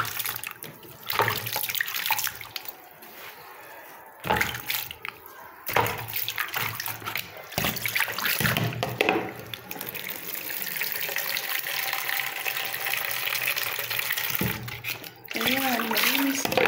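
Water runs from a tap during washing of a comfort room (toilet area), a steady broadband gush with brief pauses and splashes, close and fairly loud, with occasional speech breaking in.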